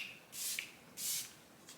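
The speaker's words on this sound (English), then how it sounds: "I set my face with this setting spray by Ilia" Ilia face setting spray gives two short, soft hissing bursts, each about a quarter second long, up close in a quiet room, followed by a fainter third puff.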